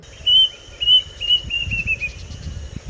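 A plaintive cuckoo gives a fairly near series of thin, high whistled notes that step down one after another in a quick descending run, over low rustling background noise.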